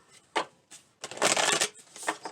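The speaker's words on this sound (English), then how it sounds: "I'm going to shuffle again." Tarot cards being shuffled by hand, a short riffle and then a longer dense flurry of papery flicking and slapping, close and fairly quiet, with no talking.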